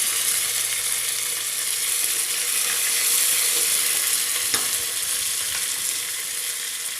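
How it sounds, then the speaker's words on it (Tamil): Mustard seeds splutter in hot oil while cooking mutton kothu kari, a steady, close hiss and sizzle scattered with small pops and crackles, with no talking. "இப்போ கடுகு நல்லா பொரிஞ்சிட்ருக்கு"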